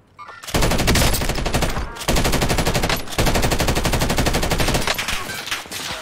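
Video game gunfire roars in long, loud bursts of rapid automatic fire, nearly continuous over several seconds with only brief gaps between volleys.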